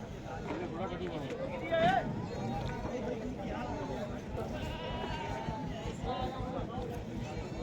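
A goat bleats once, loud and close, amid the steady murmur of a crowd talking in a busy outdoor goat market.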